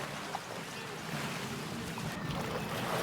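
River water sloshes and surges as wildebeest cross, a steady rushing wash with faint splashing throughout.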